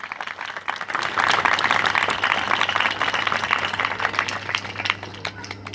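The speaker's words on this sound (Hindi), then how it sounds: "एक बार जोरदार करतल ध्वनि, दिल से तालियां।" An audience applauding at a village gathering: dense, steady clapping from many hands that swells after a second and holds loud throughout, with a faint background hum.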